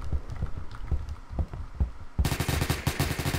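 Gunfire in the online first-person shooter game Phantom Forces: sharp rapid shots ring out in a dense burst, loud and close, following a stretch of quieter muffled thumps.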